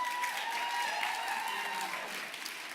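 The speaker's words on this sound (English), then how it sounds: "Wasn't expecting a round of applause, but I'll take it." Audience applause at a Christmas carols event, a soft continuous wash of clapping from a distant crowd that holds steady and slowly fades.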